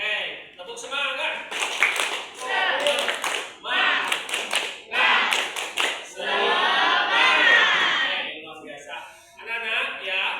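Classroom students perform a rhythmic clapping cheer called tepuk semangat, bursts of group hand claps in a patterned rhythm mixed with children's voices chanting along.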